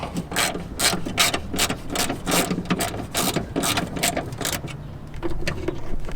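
A ratchet clicks in quick, uneven bursts close by while tightening power window parts inside a car door, with brief pauses between the runs of strokes.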